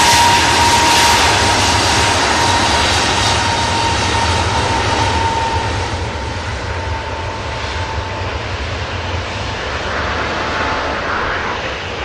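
A KLM airliner takes off from the runway for Amsterdam Schiphol, its jet engines giving a loud, sustained roar that fades gradually as it climbs away.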